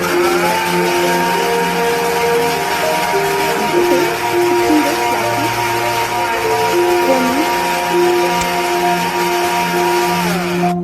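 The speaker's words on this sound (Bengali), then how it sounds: "আমি 15-30 সেকেন্ড ব্লেন্ড করেছি।" A blender runs loud and steady for about eleven seconds, whirring curd, sugar, milk powder and ice into lassi, with an unbroken motor drone throughout.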